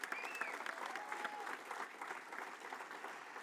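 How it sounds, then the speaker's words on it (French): Audience at a political rally meeting hall breaking into steady applause, a dense, continuous patter of many hands clapping together with faint crowd voices mixed in. "On les applaudit."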